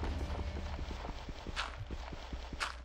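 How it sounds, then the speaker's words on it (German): Horse hooves from the Minecraft video game clip-clop in a quick, regular walking rhythm, faint and fairly close, with a couple of brief bursts of other game noise. "Ja, das war ein Pferd auf jeden Fall."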